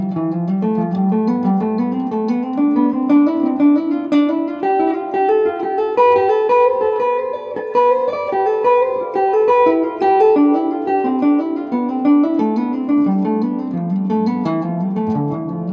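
A melodic instrument runs quickly up and down a scale in steady four-note groups, played alone at a lively, unbroken pace.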